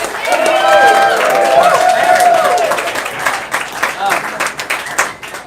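Audience at a live comedy music show applauds and cheers loudly, a dense wash of clapping and shouts with voices calling out over it, fading slightly toward the end.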